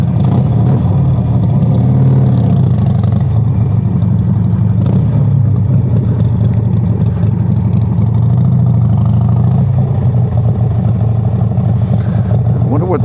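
A new motorcycle's engine runs loud and close, rising and falling as it pulls away in first gear, with a voice talking over the steady mechanical drone.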